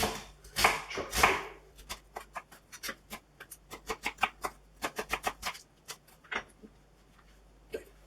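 A knife chops through an onion on a cutting board while squid Provencal is prepared, giving a run of crisp, separate taps. A few louder strikes come first, then quicker, lighter chops follow in an uneven rhythm, close and fairly quiet.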